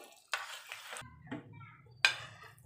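Banana halwa with dry fruits is stirred in a pan, giving a few quiet scraping strokes separated by short pauses, with a faint low sizzle underneath.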